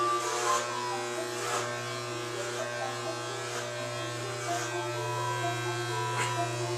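Electric hair clippers buzzing steadily while cutting hair close by, a constant hum with small periodic rises as strands are cut, with a voice in the background.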